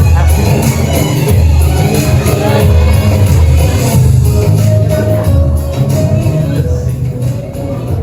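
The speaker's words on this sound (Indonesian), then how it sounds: "Kasih aplaus untuk nomor urut keempat." A school auditorium audience at a class religion performance show, a sustained loud crowd roar of clapping, cheering and shouts that runs throughout and fades slightly at the end.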